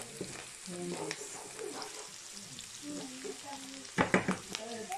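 Spaghetti sauce cooking in a home kitchen pan, a soft sizzle with stirring and a few louder clattering scrapes near the end, while a voice talks in the background.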